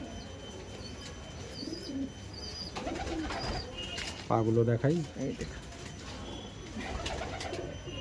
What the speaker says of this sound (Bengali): এইটা ছিল নর পায়রা